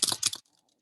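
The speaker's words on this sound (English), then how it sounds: "I'm typing faster than my cursor can move" Quick burst of typing on a computer keyboard during an online meeting, a rapid cluster of close, crisp key clicks lasting under half a second before falling silent.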